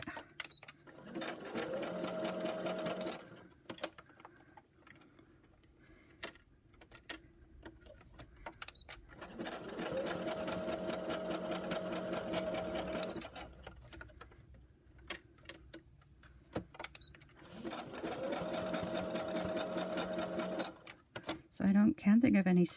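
Sewing machine stitching a double ruffle in three separate bursts of rapid, rhythmic needle chatter, each a few seconds long, with quieter pauses and faint handling noises between.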